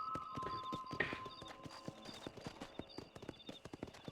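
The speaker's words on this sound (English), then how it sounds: "Me encanta ir en este caballito." Horse hooves clip-clop at a walk in Red Dead Redemption, a quick rhythmic series of close, crisp hoof strikes with a short whinny early on.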